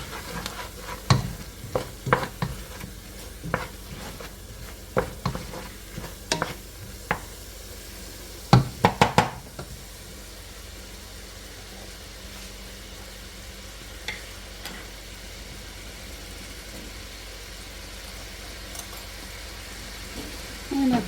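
A spoon scrapes and clanks in a pot of chicken and dumplings. A run of sharp knocks comes first, then a steady low simmer. Occasional light taps sound over it.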